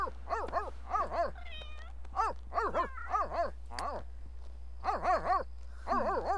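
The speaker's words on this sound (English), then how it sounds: "Why are you barking at that?" A small dog barks repeatedly in The Sims 3, a steady run of close, sharp yaps with a brief whimpering whine between bursts, heard with no talking.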